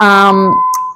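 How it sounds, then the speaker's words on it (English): An alarm beeps with a steady, piercing electronic tone, starting loud under a voice and then ringing on alone, close and continuous until it cuts off. "sorry, that's my alarm"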